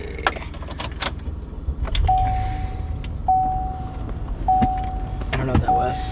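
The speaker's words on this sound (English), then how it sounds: "let me turn on my car so we're not boiling in the heat" Keys jangle inside a car, followed by a repeating electronic chime and interior clicks as the car is started, with people talking throughout.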